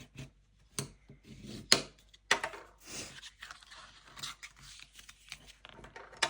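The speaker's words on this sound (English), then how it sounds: "I'm gonna burnish all the scores and then you'll definitely be able to see it" A paper pop-up card has its score lines burnished by hand, giving sparse, dry rubbing and scraping strokes at close range. Short sharper scrapes sit between quieter stretches of soft friction.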